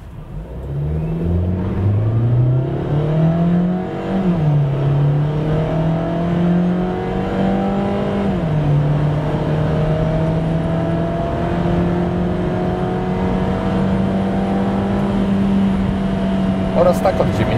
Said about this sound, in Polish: Testowana benzyna tak rozpędza samochód od 0 do setki.